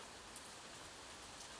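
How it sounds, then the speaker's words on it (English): Gentle rain falls in a soft, even, continuous hiss, very faint and steady, with no voices or other sounds over it. "allow the gentle rhythm of the rain to wash over you"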